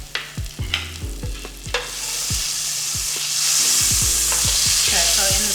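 Food laid into a hot pan on a cooking show bursts into a loud, steady sizzle that swells and holds, after a few sharp clatters of utensils against the pan.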